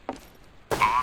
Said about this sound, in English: I am setting the bomb